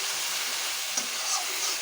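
Fish head sautéing in spices and oil in a pan, giving a steady, even sizzling hiss close by for the whole moment, with no voices.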